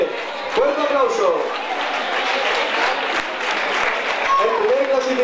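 Loud applause for the winners of a urban mile race and half marathon, dense clapping throughout with an announcer's voice speaking over it.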